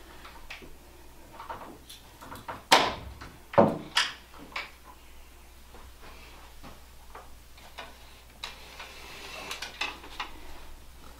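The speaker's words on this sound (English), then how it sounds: "I'm just going to open up the closet door here." Old-style wooden closet door is opened, giving a few sharp knocks and clacks of wood and hardware amid quieter creaks and rustles, close and moderately loud with no talk.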